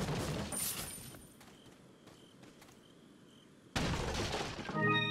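Gunfire and shattering wooden barrels in Resident Evil 4 (2005), a burst of loud shots at the start, a quieter stretch with faint scattered pops, then another loud burst of fire and breaking debris near the end.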